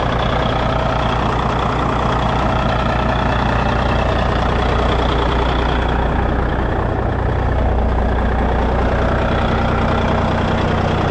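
A Peterbilt 377 dump truck's engine idles steadily up close, a deep, constant rumble with a loud low drone that holds unbroken through the whole stretch and shifts only slightly partway through.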